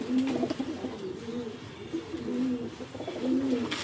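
Domestic pigeons kept at home with eggs in their nest coo softly nearby, repeating low, rolling throaty calls in a steady rhythm over faint background noise.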